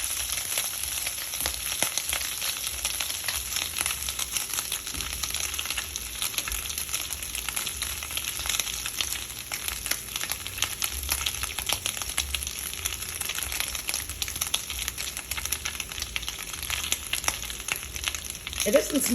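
Turkey bacon frying in a pan, a steady close hiss and crackle of sizzling fat that holds evenly from start to finish, with a brief faint clatter near the end.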